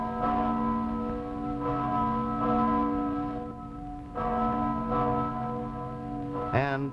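Deep bells toll at a slow, regular pace, each stroke ringing on and overlapping the next, with a brief higher sound at the very end.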